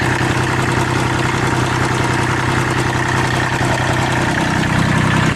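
A cold Kubota tractor engine idles steadily with a dense, even mechanical drone and faint rapid knocking, showing slight blow-by, close by and unbroken throughout with no voices.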